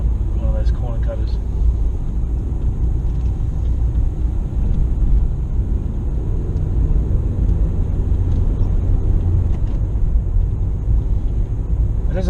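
Car moving through Kathmandu traffic in Nepal, a steady low road rumble and engine drone that runs the whole time, with faint traffic sounds and a person talking over it.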